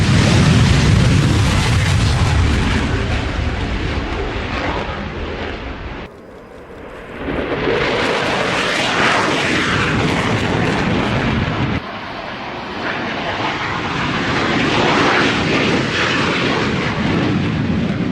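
Frecce Tricolori aerobatic jets roar past at an airshow, a loud, sustained broadband blast that dips briefly, then swells again with a second thundering pass.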